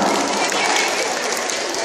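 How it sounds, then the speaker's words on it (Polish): Audience at a Lenten retreat applauding, a short burst of dense, loud clapping from many people that fills the whole moment. "Ogromne brawa."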